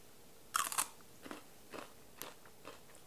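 Biting into raw vegetable crudité dipped in pumpkin seed pate, one sharp crunch followed by a few softer chewing crunches, close and quiet.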